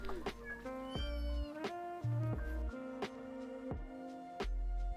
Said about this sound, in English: Here are some footages of a cat family.